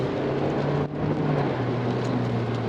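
A fifth-generation Toyota Prius hybrid of about 190 horsepower accelerates along a winding road, giving a steady, moderately loud engine and road drone with a rising tonal hum and one brief dip partway through.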